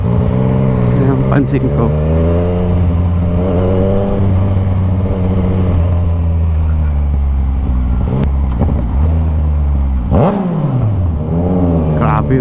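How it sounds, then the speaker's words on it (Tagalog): A Yamaha Tracer 900 motorcycle engine revving loudly, a continuous rumble that rises and falls with sharp backfire pops, while someone talks over it. "Yan o, lakas ng backfire."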